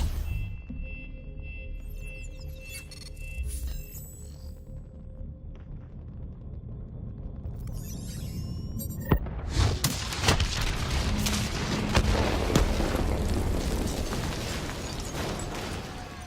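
A detonation explosion in the video game Black Ops 3 bursts loud and near midway, setting off sharp pops and a sustained heavy rumble over a bed of droning game ambience.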